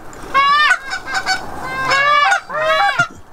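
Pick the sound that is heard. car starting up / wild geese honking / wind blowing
wild geese honking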